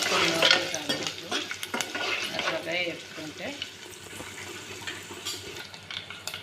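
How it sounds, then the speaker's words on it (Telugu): Garlic and tempering spices crackle and sizzle in hot oil while a spoon scrapes and stirs the pan, with occasional clinks. "తాలింపు వేగిపోయిందండి ఇప్పుడు కూర అందులో వేసేసుకుందాం"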